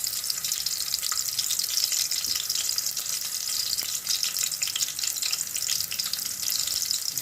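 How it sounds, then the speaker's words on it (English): Pimento, garlic, pepper and coffee frying in hot oil in a pot for a Jamaican coffee brown stew turkey neck, a steady close crackling sizzle with faint stirring and no talking. "We're going to add some pimento, garlic, and pepper to the oil. Add the coffee to the oil."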